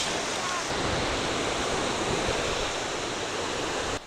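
Baltic Sea waves wash against the shore in a loud, continuous rush of surf mixed with wind noise, with no distinct breaks between the waves.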